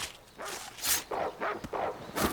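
In the video game Monster Hunter Rise, a canine companion barks in a short run of several quick, fairly quiet yips and woofs over a few seconds.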